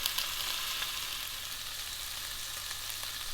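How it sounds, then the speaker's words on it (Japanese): Cubes of veal and mirepoix searing in olive oil inside a cocotte pot produce a steady, soft, close sizzle with faint crackles throughout, quiet and uninterrupted. "今回オリーブオイルをひいて、そこに先ほど切ったキューブとコートドボを入れて焼いていきます。"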